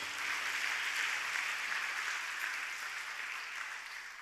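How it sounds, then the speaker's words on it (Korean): A church congregation claps at a Friday late-night prayer meeting during a youth department presentation, a steady, moderately distant wash of applause that fades slightly toward the end. "우리 박수해 주세요"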